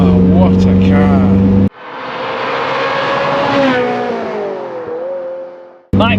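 A Ferrari 355 engine revs loud and close, its pitch climbing and holding for several seconds before dropping off, with brief voices and other car noise at the start and end.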